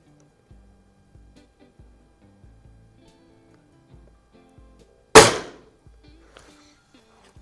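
A Norica air rifle fires a single pellet shot, one sharp, loud crack with a quick fading tail, set among faint, scattered small clicks and handling noises close by.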